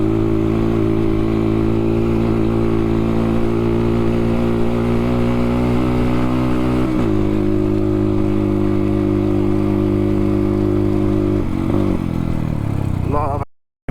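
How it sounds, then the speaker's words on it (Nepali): A dirt bike engine labours up a high-altitude trail between Jomsom and Shangda in Nepal, a steady loud drone with a shift in pitch midway and rising revs near the end, close and continuous. "अब हाई एल्टिट्युडतिर आउन लागि अब बाइकले पनि तान्दैन"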